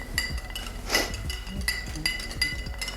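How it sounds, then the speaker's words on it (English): A spoon stirs a Carajillo cocktail of mezcal and Licor 43 in a glass, giving close, repeated light clinks and taps against the glass over a steady low background, with no voices. "I'm just going to do a little stir in there to kind of bring that down in temp a little bit"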